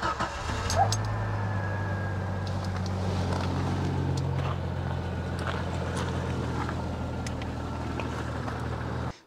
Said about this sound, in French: maintenant on rebranche tout et on fait le premier essai de démarrage pour voir ce que ça donne